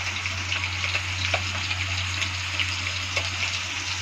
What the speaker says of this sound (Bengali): আলুটা একটু লাল লাল ভাজা হয়ে গেছে, আমি এখন এর মধ্যে জিরে আদা পেস্ট দিয়ে দিচ্ছি 2 চামচ